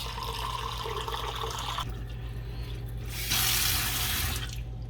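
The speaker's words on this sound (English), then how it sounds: "Fill up my glass." Water from a countertop 8-stage alkaline mineral filter pours steadily from the tap into a drinking glass, the stream close and continuous, its tone shifting as the glass fills, with no talking.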